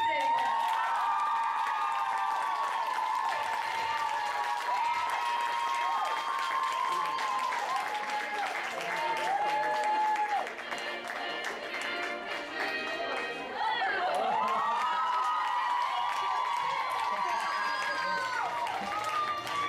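A school audience at a pedagogical college arm-wrestling championship applauds to welcome a teacher on stage, with dense, sustained clapping mixed with loud cheering and shouting voices throughout.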